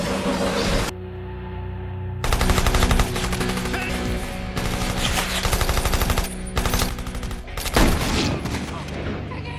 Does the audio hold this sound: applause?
no